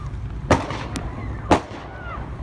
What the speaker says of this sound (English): The sound of gunshots and screams outside Highland High School